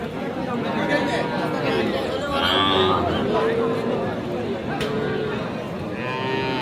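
Cattle low amid a busy crowd at a livestock market in Aftabganj, Dinajpur, moos rising over steady chatter and babble of many voices.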